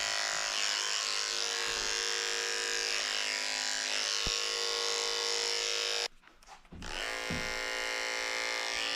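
Electric dog clippers fitted with a 7 blade buzz steadily while shaving the chest of a Maltese-Poodle, a close, even motor hum that cuts out briefly near the end before resuming.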